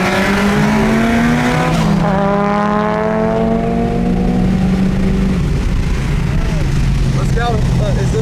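A supercharged 550HP Ford FG XR8 roll racing at a Brisbane event, its engine roaring loud and close with rising revs through gear changes, tyres squealing and a voice talking over it.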